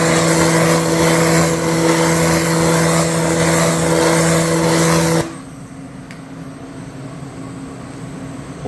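A laser cleaner works on a rubber tire with a loud, steady buzzing hum and tonal whine for about five seconds, then cuts off abruptly, leaving faint background quiet.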